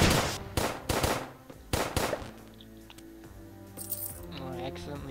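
A weapon in the video game Starbound fires in a burst of sharp, repeated shots at an uneven rhythm, followed by lighter game effects and music. The shots are loud and sit beneath a player's talk.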